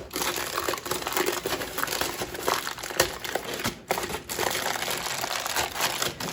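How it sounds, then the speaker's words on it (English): Aluminum foil peeled away from a pan of chocolate chip brownies, a steady crinkling and crackling that runs close and loud for several seconds with brief pauses. "So I'm gonna peel the foil away."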